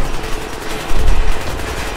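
A machine gun turret fires nonstop in a video game, a loud, dense burst of rapid shots that swells stronger halfway through and carries on to the end.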